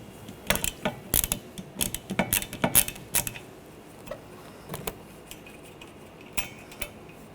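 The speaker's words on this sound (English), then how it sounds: "Using a 15mm socket, take this nut off." A 15mm socket ratchet loosening the wiper arm nut on a 2013-2019 Ford Escape: close, quick bursts of ratcheting clicks and metallic clatter, with quieter pauses between them.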